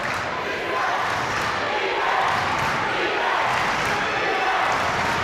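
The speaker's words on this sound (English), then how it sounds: "The polar bear crowd coming alive with the defense chant" A home crowd at a high school state tournament basketball game keeps up a loud, pulsing defense chant, a dense wall of voices swelling and dipping in rhythm, with faint court thumps underneath.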